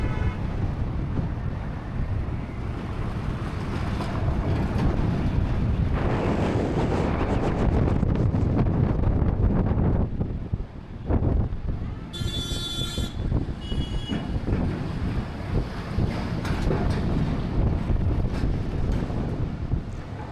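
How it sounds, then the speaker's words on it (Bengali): Strong wind in a mountain valley roars and buffets the microphone continuously for twenty seconds, loud and gusty, with brief lulls and a faint high whine partway through. "প্রচণ্ড বেগে এখানে হাওয়া চলছিল"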